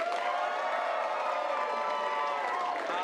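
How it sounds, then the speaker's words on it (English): A crowd at an improv comedy show voting with cheers and applause, a sustained dense roar of shouting and whooping voices, loud and continuous for the whole stretch. "please applaud now"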